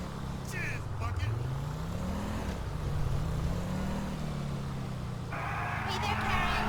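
A car engine revs in the GTA 5 police game world, rising and falling in pitch over several seconds, steady and fairly close, with a voice talking over it.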